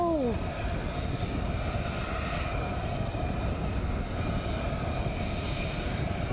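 A military jet aircraft on final approach at RAF Lakenheath makes a steady, fairly distant engine roar and whine that holds for the whole stretch, with no voices.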